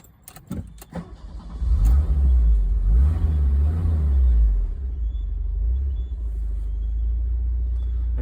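A 1984 Fiat Spider engine cranks with a few quick sputters, catches, briefly revs into a deep rumble, then settles into a steady low idle near 1,000 RPM, close and without talk.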